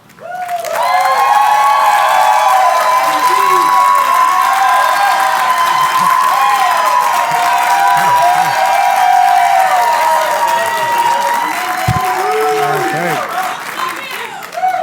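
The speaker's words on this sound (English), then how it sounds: "This group knows how to cheer." A graduation audience at a Harvard Medical School and School of Dental Medicine Class Day claps and cheers in a sustained, loud roar, with whoops and shouts rising over dense applause before it begins to taper.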